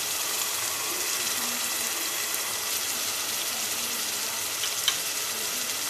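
Ginger garlic paste sizzles and fries steadily in onion paste in a pan, a constant bright crackling hiss with one brief clink near the end.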